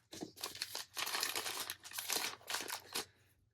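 Paper crinkles and tears in quick bursts while a toy key stuck to the sheet is pulled free, close and fairly quiet, with no talking.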